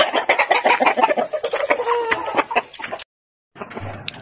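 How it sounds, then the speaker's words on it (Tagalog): Roosters clucking in a farm cage at feeding time, a dense, busy chorus of close clucks and calls that breaks off into a brief silence before resuming. "So, sunod naman natin pakainin ay ang mga tandang sa taas."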